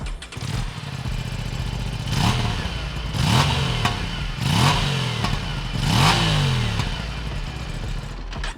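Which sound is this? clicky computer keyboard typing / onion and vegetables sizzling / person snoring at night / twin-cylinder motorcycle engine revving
twin-cylinder motorcycle engine revving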